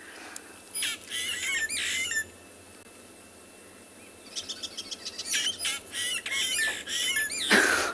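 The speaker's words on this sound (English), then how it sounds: "The starlings are not happy, that's for sure." Agitated starlings squawk and chirp in harsh, repeated bursts during a sunset safari, with their calls coming in clusters against a steady outdoor hiss and no one speaking.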